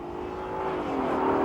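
Car engine on a highway accelerating as it comes on cam, a rising, building engine whine that grows steadily louder over a second and a half.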